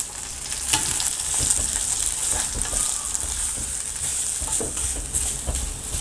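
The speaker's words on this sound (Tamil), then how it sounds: "வெங்காயம் நல்லா வதங்கிடுச்சு. இப்போ தேங்காயும் ஆட் பண்ணிக்கலாம்." Onions and coconut frying in a pan while being stirred, giving a steady close sizzle with periodic scraping and clattering from the stirring.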